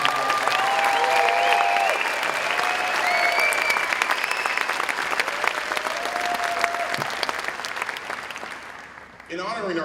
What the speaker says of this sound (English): the class of 2016 deserves another huge round of applause